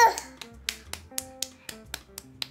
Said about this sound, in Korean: 왜 박수 쳐?